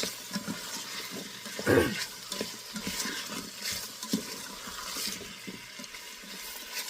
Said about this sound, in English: you're going to just stir that around